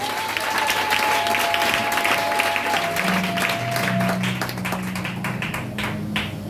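Church congregation applauding in sustained, dense clapping, with sustained organ or keyboard tones underneath and a brief crowd swell.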